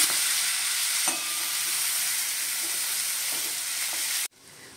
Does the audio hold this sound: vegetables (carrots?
yes